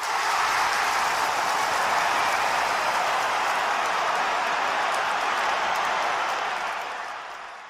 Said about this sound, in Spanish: se oye una gran ovación del público